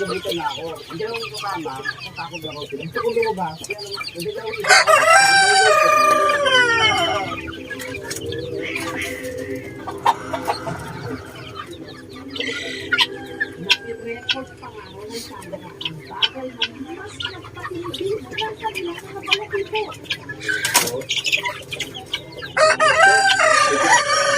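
Backyard flock of chickens, including naked-neck birds, with hens clucking throughout and roosters crowing loudly at a few points, close by and layered over steady farmyard ambience.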